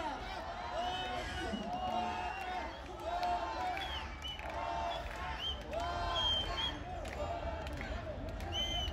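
A large outdoor crowd roars and cheers at a fair concert by a cumbia band, with the dense crowd noise running steadily throughout, rising and falling in waves of shouting and whooping.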